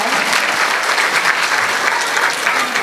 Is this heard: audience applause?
yes